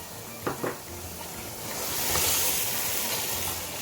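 Mutton keema with ginger and green chillies sizzling as it is stir-fried in a pan, a steady broad frying hiss that swells midway, with a couple of brief clinks of a spoon near the start.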